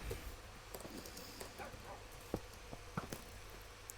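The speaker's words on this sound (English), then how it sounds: "Look at all the dogs!" Several dogs in Minecraft giving short, faint yips and barks scattered over a few seconds against a quiet game background.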